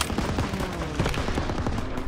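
Dense, continuous gunfire in the World War II shooter Call of Duty WW2, with rapid machine-gun bursts and overlapping shots forming a loud, unbroken barrage throughout, no voices.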